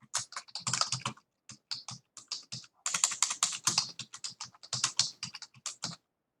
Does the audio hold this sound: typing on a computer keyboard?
yes